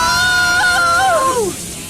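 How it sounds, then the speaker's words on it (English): Anime characters scream as fire burns them, with several strained wailing voices held together and then sliding down in pitch as they fade, over a busy soundtrack. "they make this casual scream here"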